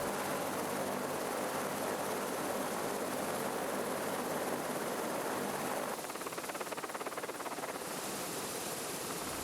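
A BK 117 helicopter runs close by as a steady, loud broadband roar with rotor and turbine noise, its tone shifting slightly partway through and continuing without a break.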